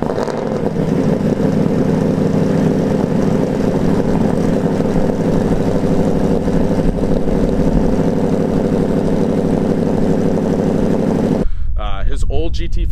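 A 1000-horsepower 2013 Ford Mustang Shelby GT500 idles with a loud, steady, rough engine rumble for most of the stretch, then cuts off abruptly near the end, leaving faint background sound.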